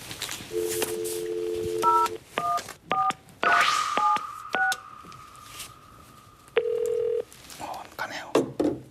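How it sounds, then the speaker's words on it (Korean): Touch-tone keypad beeps as a telephone call is dialed in a Korean TV talk-show studio: a quick, uneven run of short tones and one longer tone, with faint talk underneath. "예, 제가 한번 전화를 걸어보겠습니다."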